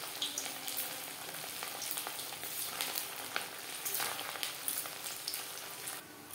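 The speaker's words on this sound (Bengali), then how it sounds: "একইভাবে ভেজে নেব।" Semolina gulab jamun balls frying in hot oil, a steady dense sizzle with crackling bubbles throughout, moderately loud and close, with no talking.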